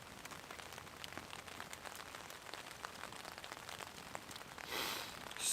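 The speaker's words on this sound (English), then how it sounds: "The crackle of the fire and the rain on the tarp" Rain drums steadily on a stretched tarp shelter at a campsite nearby, a constant patter of drops, with a brief louder rush of noise near the end.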